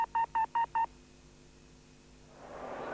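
Telephone keypad dialing in a 1980s TV advert: five quick, evenly spaced touch-tone beeps, then a quiet pause before a rising hiss of line noise.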